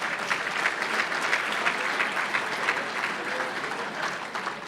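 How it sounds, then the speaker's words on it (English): Banquet audience applauding steadily at a bowling industry awards night, a dense, even wash of clapping from a large room that holds for several seconds without talk. "Please give them a round of applause."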